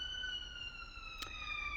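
Faint emergency vehicle sirens outside, a steady distant wail held at low level against background hiss, with a brief click partway through.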